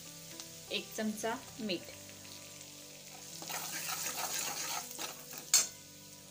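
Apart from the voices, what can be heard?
stirring tempering with curry leaves and coriander in pan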